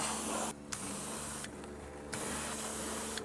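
A jet wash sprays hard and steady onto a dirty bike to blast off grime, a loud continuous hiss that briefly cuts out and restarts twice.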